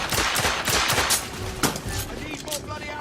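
Heavy gunfire fills a battle in the video game The Order: 1886, with dense overlapping shots and bursts in a loud, continuous barrage, voices shouting faintly beneath.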